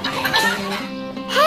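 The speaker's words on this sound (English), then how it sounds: "Hen." A hen clucks in a quick series of short, throaty, rhythmic calls, close and clear, ending in a higher squawk.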